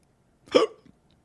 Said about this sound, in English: I'm terrified that if you keep doing that, you're going to hiccup yourself.